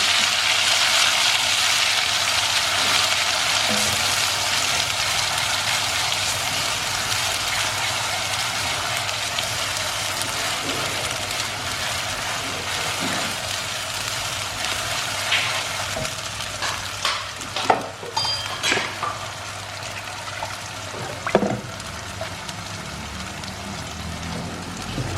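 A pan of frying spice paste for rendang sambal chicken, thinned with rinse water from the grinder, sizzles steadily and close throughout. Scattered clicks and scrapes of stirring come through, growing more frequent toward the end.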